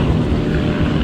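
Aerobatic planes trailing smoke at the Clacton Airshow, a steady broadband engine roar with wind-like rush, continuous and fairly loud throughout the short moment.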